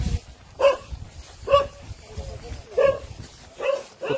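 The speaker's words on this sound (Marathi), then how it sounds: "कुत्ता डरा रहा है अभी" A dog barks in a rural hillside area near a waterfall, four or five spaced, moderately loud barks over low background noise and faint murmuring voices.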